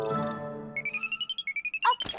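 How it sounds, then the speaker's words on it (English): A cartoon to-do alarm goes off: a short tonal chime, then a rapid string of about a dozen bright electronic beeps, ending in a brief jumble of clicks. "Oh, that's my to-do alarm."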